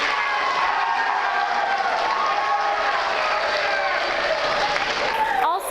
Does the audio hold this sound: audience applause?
yes